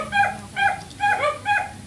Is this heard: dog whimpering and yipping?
yes